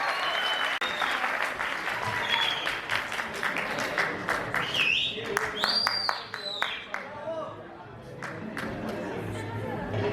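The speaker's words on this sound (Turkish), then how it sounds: "Alkışlarınızla" Crowd at a Turkmenistan cultural showcase in Bursa applauds as wrestlers are called to the stage, steady clapping with chatter and raised voices mixed in, fairly loud and close.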